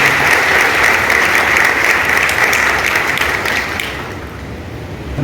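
A church congregation at Centenary Methodist Church claps warmly in a steady, dense burst of applause that fills the room, then fades toward the end with no voices over it.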